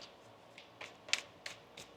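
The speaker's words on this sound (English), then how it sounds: "One more shuffle here, please, Anne." Tarot cards being shuffled by hand, heard as a few quiet, brief riffling bursts spread across a couple of seconds, with no talking.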